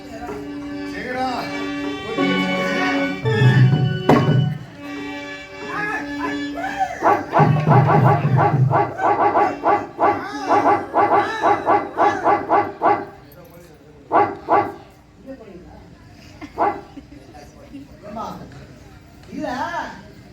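Dogs barking and yelping during a Tamil stage drama performance, bursts of barking mixed with speech and music, loud at first and then breaking into shorter intermittent yips.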